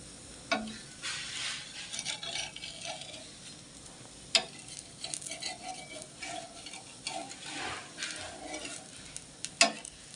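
Podi dosa sizzles softly on a hot pan with a steady frying hiss. Sharp ticks and scrapes from a spatula are scattered irregularly over it, and no one speaks.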